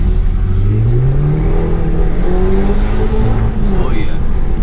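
A BMW F30 320i with the B48 engine and aftermarket charge pipes launches hard under launch control, its engine note climbing steadily in pitch through a loud, close, sustained acceleration pull.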